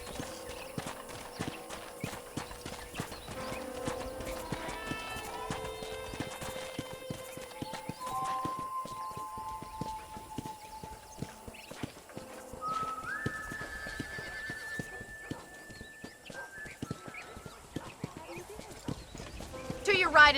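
Steady clip-clopping hooves trot along at an even pace in Red Dead Redemption, with a horse whinnying briefly and whistle-like tones drifting over the game soundscape.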